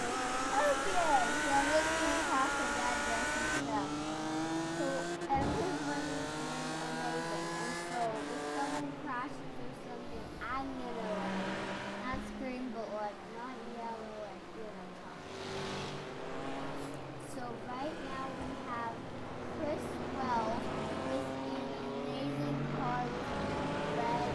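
Race cars circle the Daytona track at night during a sports car club event, engines roaring and passing steadily throughout while a commentator talks over the continuous racing noise.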